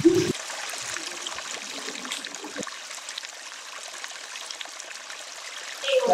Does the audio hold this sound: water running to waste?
yes